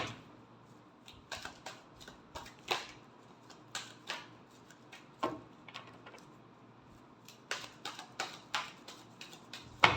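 A deck of tarot cards is shuffled, giving a series of quick, crisp riffling and tapping bursts spread across the clip, with short pauses between them and no talk.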